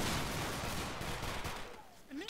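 A line of soldiers fires a musket volley in a Battlegrounds 2 line battle. A loud, crackling burst of overlapping shots opens the moment and then fades into a rolling, echoing tail.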